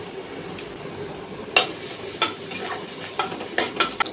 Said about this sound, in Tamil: கருவேப்பிலை சேர்த்து ஒரு வதக்கு வதக்கியாச்சுங்க